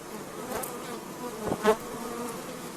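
Bees buzzing around a wooden hive on a honey farm, a faint steady drone with a couple of louder passes as single bees fly close.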